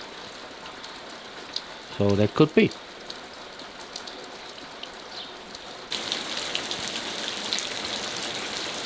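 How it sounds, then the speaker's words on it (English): Steady heavy rain falls outside a porch, a continuous hiss that swells louder toward the end, with a brief spoken phrase near the start. "outside it is raining, and it's raining for real"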